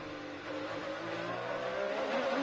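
IndyCar race cars screaming through the fountain turn at the 2021 Chevrolet Detroit Grand Prix street race, a dense high-pitched engine whine building louder over a couple of seconds.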